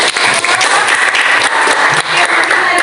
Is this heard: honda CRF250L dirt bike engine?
no